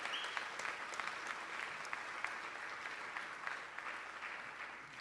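Applause at the opening of an exhibit honoring fashion designer Oscar de la Renta at the Clinton Foundation and Library, a sustained, fairly distant round of clapping from a crowd, even and continuous throughout.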